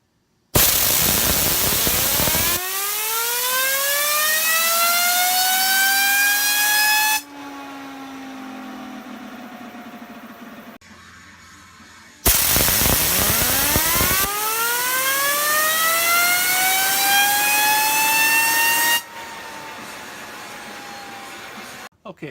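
A copper Zentri Nano fidget spinner whirs loudly in two long spins, each starting with a bright rising whine that slowly glides downward as it decelerates, with a quieter gap between runs.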